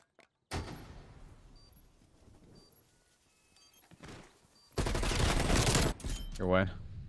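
Gunfire in the Black Ops Cold War video game during a Search and Destroy match: a sharp shot near the start decays, then a loud dense burst of automatic fire follows, with a brief rising tone at the end.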